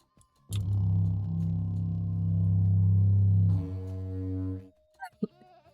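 A Minecraft goat gives a long, loud bleat lasting a few seconds, followed by a second, higher bleating call and a couple of short clicks near the end.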